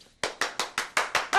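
Hand clapping sounds close and crisp, seven sharp claps in a quick, even rhythm with no talking over them.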